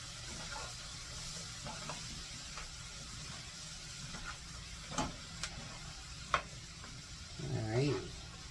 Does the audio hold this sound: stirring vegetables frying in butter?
yes